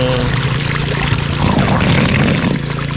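Water pours steadily in a dense, rushing stream, loud and close, with a constant splashing wash and no talking.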